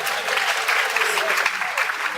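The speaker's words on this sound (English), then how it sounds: "If you agree with me, clap for yourself." Audience members at a pension commission event clap together in a brief burst of dense applause, fairly steady and moderately loud, with faint voices underneath.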